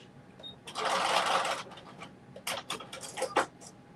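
A sewing machine stitches fabric in a quick loud burst, followed by several shorter stop-start runs of rapid needle chatter, close and clear with no talking.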